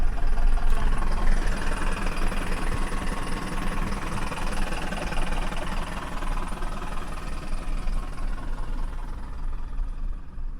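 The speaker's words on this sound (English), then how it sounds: "Beautiful sound of the old diesel there." An old diesel bus engine runs steadily close by, a continuous rough, knocking rumble with a vibrating low throb that holds even for about ten seconds, with no talking.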